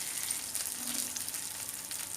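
Quiet, steady sizzle of slit green chilies sautéing in hot oil, a soft continuous crackle with no voices.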